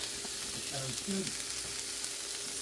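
Peppers tossed into a hot pan sizzle with a steady broadband hiss throughout, close and moderately loud, with a few faint voiced sounds underneath.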